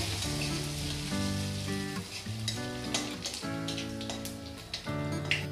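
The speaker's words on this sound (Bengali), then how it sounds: "ফোড়নটা একটু ভালো করে ভেজে নেব।" Bay leaf and panch phoron five-spice fry in hot oil, a continuous crackling sizzle with a steady spattering texture while music plays underneath throughout.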